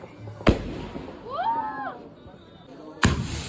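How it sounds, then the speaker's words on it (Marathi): Diwali firecrackers burst in two sharp, loud bangs about two and a half seconds apart, with a warbling whistle-like tone rising and falling between them. "तो चलो फटाके फोडते."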